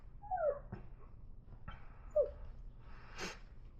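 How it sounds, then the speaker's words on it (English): A dog whimpers softly in the background of a quiet room, a few thin whines and a snort spread over a few seconds, faint and alone. "Don't mind my dog in the background here."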